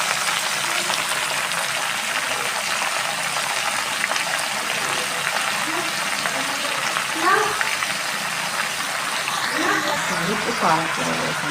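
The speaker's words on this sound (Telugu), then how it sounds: "పాలకూర వేసాము. దీన్ని బాగా ఫ్రై చేసుకోవాలి." Spinach leaves frying in hot oil in a pan for palakura pachhadi, a steady broadband sizzle running throughout with a few stirring scrapes near the end, while a voice talks over it.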